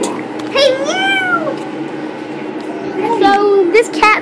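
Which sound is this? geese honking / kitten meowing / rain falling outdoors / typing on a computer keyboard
kitten meowing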